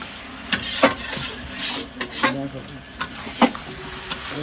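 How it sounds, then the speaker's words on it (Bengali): Marinated chicken being sautéed in a pan, a soft continuous sizzle with repeated scraping and stirring strokes at irregular intervals, close and moderately loud. "মাংস কষানো চলছে"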